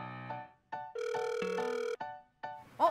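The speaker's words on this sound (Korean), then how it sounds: "전화 왔나 봐." A phone ringback tone plays during a call, with short tonal bursts and one longer sustained ring before a voice answers at the end.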